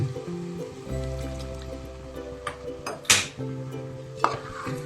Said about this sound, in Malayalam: ആ കഷ്ണം വേവിച്ചതിൽ ഒരു രണ്ട് സ്പൂൺ വെള്ളം ബാക്കിയുണ്ട് അതിലേക്ക് ഒഴിച്ചു കൊടുക്കാം